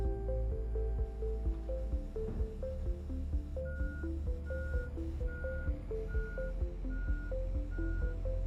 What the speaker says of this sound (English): Yeah, I got truck after truck after truck right now.